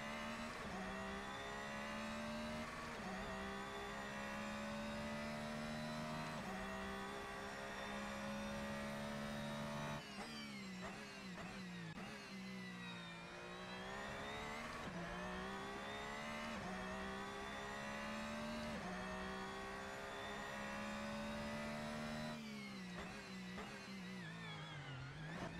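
Race cars passing on a circuit, a steady loud engine drone with shifting pitch as cars accelerate and go by in the distance, continuous throughout with no talk.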